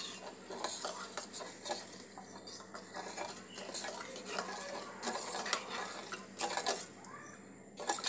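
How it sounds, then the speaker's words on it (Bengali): Whisk or spoon stirring milk into beaten eggs and sugar in a bowl for pudding, quick irregular scraping and clinking strokes against the bowl, close and fairly quiet. "এইবার দুধটা কিন্তু খুব ভালো করে মিশিয়ে নিতে হবে।"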